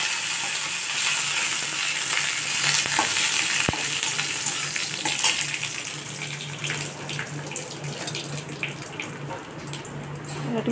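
Garlic frying in a pan gives a continuous hissing sizzle with faint crackles and occasional scraping stir sounds, close and steady throughout.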